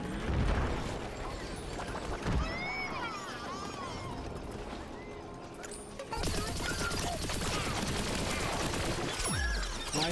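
Dense, chaotic gunfire from Plants vs. Zombies Garden Warfare 2, with rapid shots, crashes and game effects running continuously and loudly, mixed with busy in-game sounds.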